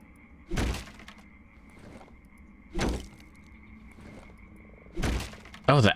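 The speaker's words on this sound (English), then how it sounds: "the axe is really good at breaking down stuff" An axe hitting and breaking objects in the horror game Darkwood, three heavy thudding, cracking impacts spaced about two seconds apart over a low ambient hum, ending in a sharper burst.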